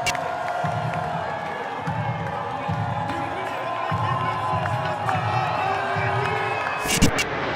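A large crowd at a public event in Brittany gives an ovation, with sustained cheering, whoops and a broad wash of voices, while a music-like rhythmic pulse repeats underneath and a few sharp knocks come near the end.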